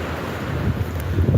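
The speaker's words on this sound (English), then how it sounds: "It's windy, the sea's noisy" Wind gusting across a microphone beside a noisy sea at Withernsea, a constant low roar of buffeting and surf with no clear breaks, loud and close.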